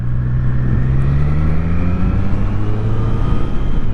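Triumph Street Triple RX three-cylinder motorcycle on the road, a loud close engine note with pitch gliding up and down as it revs, steady and continuous under wind noise, no speech.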